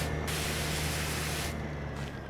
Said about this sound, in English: Started spraying a little too close to the door